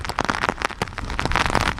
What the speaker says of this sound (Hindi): क्योंकि बारिश बहुत ज़्यादा है